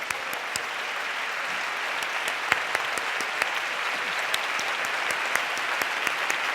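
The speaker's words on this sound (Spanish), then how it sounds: "Un aplauso a profesores, Isabel" A large audience applauds teachers at an inspirational talk, a steady wash of many hands clapping with a few sharper claps standing out, sustained and even throughout.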